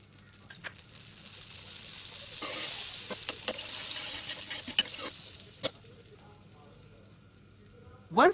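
Butter cubes melting into a little oil in a pan give a soft, steady sizzle that swells in the middle, with a few sharp clicks and scrapes of a utensil against the pan.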